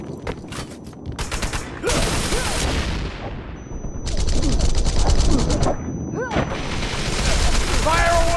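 A grenade blast and gunfire in the game Wanted: Dead, heard as dense, sharp bursts of rapid shots and heavy booms going off again and again, with shouted voices over the fighting.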